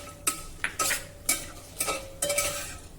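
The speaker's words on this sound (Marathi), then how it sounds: "आता हे काजू जरा हलक्या तांबूस रंगाचे होईपर्यंत आपण तुपामध्ये परतून घेऊया" Cashew pieces frying in ghee with whole spices, stirred with a metal spoon: five or six sharp scrapes and clanks against the pan over a soft, continuous sizzle, close up.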